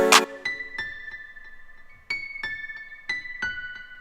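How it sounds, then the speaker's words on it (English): A Logic preset piano-with-strings patch plays a sparse line of separate notes, each struck attack ringing out and fading before the next, with a brief bright burst at the very start; no voices. "I've got like a piano line, which is just like a Logic preset piano."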